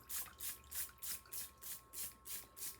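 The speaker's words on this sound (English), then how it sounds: "I do take my spray bottle" Spray bottle misting water over willow roots during repotting, rinsing off perlite and soil: about ten quick, even hissing squirts in a steady rhythm, close and fairly soft.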